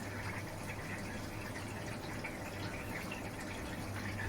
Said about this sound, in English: We can hear water going in